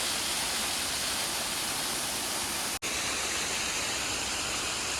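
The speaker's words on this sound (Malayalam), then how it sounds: "പക്ഷേ ഇവിടെ വന്നപ്പോൾ ഉണ്ടല്ലോ വീണ്ടും ഒരു ചെറിയ വെള്ളച്ചാട്ടം കണ്ടോ" A small waterfall tumbles down a hillside near Theekoy and Mangalagiri, giving a steady, close, broadband rush of falling water with no talk and one brief dropout partway through.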